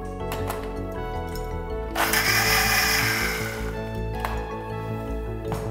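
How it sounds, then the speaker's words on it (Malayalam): A blender grinds yogurt, sugar and coriander leaves with a loud, steady motor whine and churning rattle, surging briefly a few times as the mix is whirred up close. "ബാക്കി പഞ്ചസാരയും ചേർത്ത് കുറച്ച് മല്ലിയിലും കൂടി ചേർക്കാം. അരച്ചെടുക്കാം."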